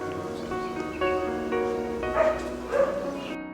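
A dog barks at a dog shelter in Thailand, a few faint barks and yips carried over a steady, busy background hum.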